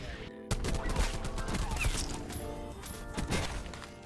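Rapid, dense gunfire bursts from a sniper's nest killstreak in Call of Duty Black Ops 4, loud and continuous with sharp cracks and explosions layered over busy in-game battle noise.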